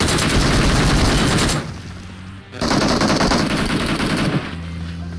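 Automatic gunfire in an online shooter video game, loud close bursts of rapid machine-gun fire in two long strings separated by a brief pause, with no talk.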